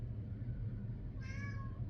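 A house cat lets out one short, clear meow over a steady low background hum, close and moderately loud.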